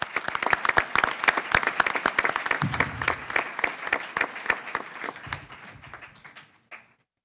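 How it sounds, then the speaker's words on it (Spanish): An audience applauds at the opening of a technology festival event, a dense burst of many hands clapping that runs for several seconds before thinning out and fading to silence. "un aplauso"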